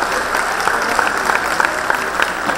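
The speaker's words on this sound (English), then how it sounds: "give them a big round of applause for joining us on these auspicious occasions." Audience applause at a Mahavir Jayanti celebration by a Jain society in Chicago, a dense, steady crowd of clapping hands, loud and continuous throughout.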